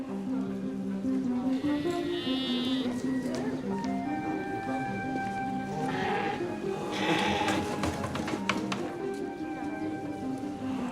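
Sheep bleat among a flock in a livestock setting, several wavering calls near and far over light background noise, with a voice narrating over them.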